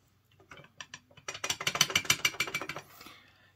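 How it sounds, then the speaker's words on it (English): A Powerblock Elite USA adjustable dumbbell rattles in its closed position, producing a quick series of metallic clicks and clattering knocks that build into a dense burst before trailing off, close and loud with no voices. "they would go into the closed position and still have a little bit of a rattle, like this"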